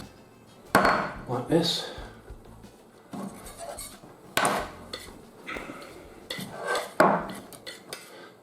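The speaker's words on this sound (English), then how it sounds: "What I'm going to do here is just to trim the edges of the pastry" A knife trims the pastry edges of a homemade cheese and onion pie in a kitchen, making a series of close, irregular scraping and clinking taps against the dish, and a voice speaks briefly.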